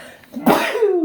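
A single close, loud sneeze bursts out sharply after a short breath in, then trails off into a brief voiced tail.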